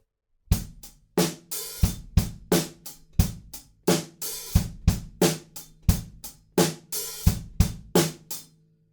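The drum groove from a song played alone: kick and snare hits in steady rhythm, with a sizzling hi-hat wash ringing out at the end of each bar.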